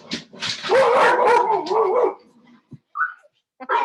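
Pet dogs bark and yip loudly at someone at the door of a home, a close, excited burst lasting about two seconds followed by a few short whimpers and yaps.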